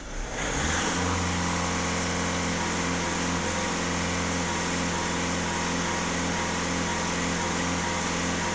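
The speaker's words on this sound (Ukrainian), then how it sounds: "даю газ в пол, дивимося на тиск" A VW Golf 1.6 TDI diesel with DPF and EGR faults, held at full throttle after cleaning, roars steadily and loudly at high revs after a brief rise at the start, with no talking.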